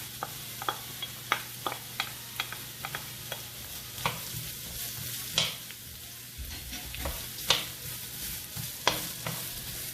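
Onion sautés in a pan for ginataang seafood, sizzling continuously beneath repeated sharp scrapes and clacks of a utensil stirring at irregular intervals, close and fairly loud, no voices.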